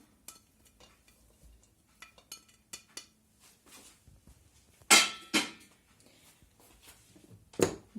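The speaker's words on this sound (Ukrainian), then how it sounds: "З'єднуємо огірки, кілограм огірків і пів кілограма цибулі. З'єднуємо." Sliced cucumbers and onions, a kilogram of cucumbers to half a kilogram of onions, tossed together in a bowl, giving scattered soft clinks and rustles with a few louder knocks and scrapes near the end.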